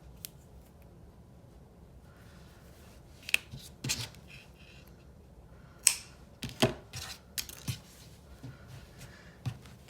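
Scissors snipping crochet yarn while finishing a crocheted headband, a few sharp close snips and clicks scattered over quiet handling noise, with no talking.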